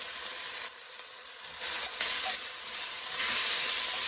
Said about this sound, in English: let's just cook it around a little bit so the onions get a little translucent